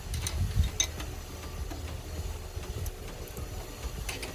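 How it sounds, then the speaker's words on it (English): A ratchet wrench works on a strut assembly of a 1998 Toyota Avalon, making close, irregular metallic clicks and ticks in short bursts over low mechanical rumble, with no talking. "we gotta get their ratchet wrench in the right orientation"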